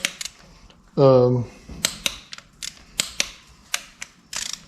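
A wrench tightens the oil pump bolts on a 5.3 LS engine with a series of sharp, evenly spaced mechanical clicks close by, preceded by a short squeaky tonal whine.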